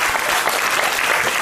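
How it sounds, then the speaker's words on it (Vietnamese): A loud, dense burst of audience applause fills a student debate hall, steady, close clapping from many hands over a brief moment. "Một tràng vỗ tay."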